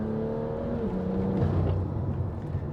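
A BMW M2's engine drones while driving, its tone holding and then stepping down in pitch through the run, with no talking.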